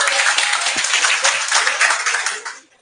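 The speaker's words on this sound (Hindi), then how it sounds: "ताली बजाओ।" Students in a classroom clap together in dense, steady applause that holds strong for over two seconds, then fades out.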